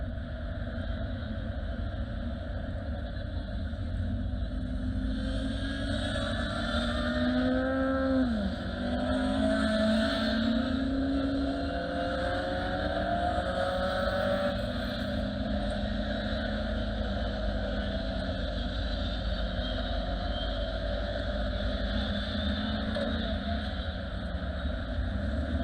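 Caterham race cars circulate behind the safety car at Cadwell Park in Lincolnshire, their engines a steady distant hum with one car's rising and falling pitch sweeping past, all fairly faint and without voices.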